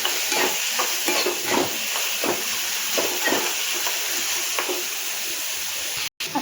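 Green chili and capsicum sizzle steadily in a hot pan, with rhythmic scraping stirs of a spatula every half second or so, close and loud with no talking.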